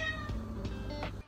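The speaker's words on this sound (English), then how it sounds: "my cat is meowing in my door right now" A cat meows at a door, two or three short close meows in quick succession over a quiet room, with no talk.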